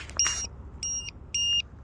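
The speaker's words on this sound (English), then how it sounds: "I don't know why this thing's beeping." Electronic beeping from an RC plane in short, even tones, three evenly spaced pulses over low background rumble, near and clear.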